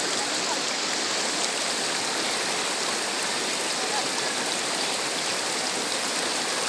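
A river flows in a steady, loud rush of water, a dense unbroken wash of sound that stays even throughout.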